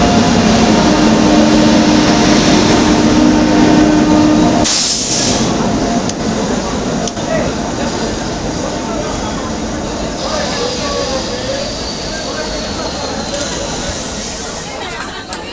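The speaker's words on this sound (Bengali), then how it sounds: "ট্রেন ঢুকছে 13506 আসানসোল থেকে দীঘা যাওয়ার সুপারফাস্ট এক্সপ্রেস 1 নম্বর প্ল্যাটফর্মে ঢুকছে।" Superfast express train pulling into platform 1 at Panskura station on its Asansol–Digha run, a loud steady rumble with hissing brakes and clanking wagons that fills the whole stretch, with a brief harsh burst partway through.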